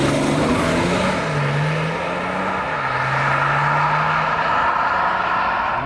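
Updated BMW 7 Series with its least powerful engine, accelerating smoothly, a steady close engine drone rising and settling under continuous road and cabin noise, with no talk.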